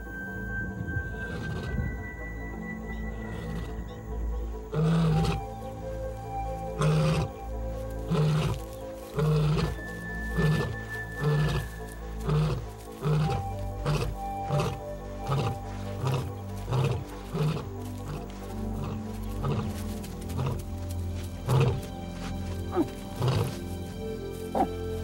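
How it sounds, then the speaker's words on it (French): Lions roar repeatedly across the African savanna in a busy wildlife soundscape. Loud rhythmic roars and grunts rise out of layered animal calls, with other cries and a background drone throughout. "parvenir à reconnaître parmi tous les cris de la savane les rugissements des siens"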